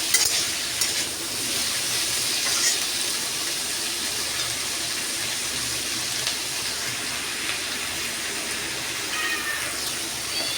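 Spices and green chillies frying in a pan for a ground masala, a steady, loud, hissing sizzle that carries on throughout with faint stirring scrapes.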